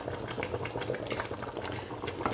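Yam porridge (asaro) boils in a covered pot, making a steady, close bubbling and simmering that carries on without a break.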